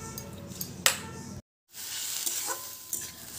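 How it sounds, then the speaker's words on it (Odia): Hot oil tempering (chhunk) poured into a curd-coconut dish with ginger, cumin and black pepper, giving a broad close sizzle with a brief dropout midway, then a steady hiss with small crackles. "ଏବେ ଆକୁ ଛୁଙ୍କ ଦେଇଦେଲି"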